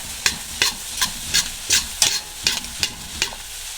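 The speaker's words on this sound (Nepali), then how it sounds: "अब के गर्ने भने चाउमिन चलाइ गर्नुहुन्छ" Chow mein being tossed and fried in a pan, rhythmic scraping strokes roughly twice per second over a steady close sizzle.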